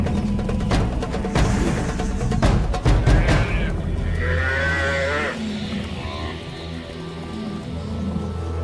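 Buffalo herd charging in the wild under lion attack, with loud low moos and bellows, heavy rumbling and scuffling up close, and a voice talking over part of it.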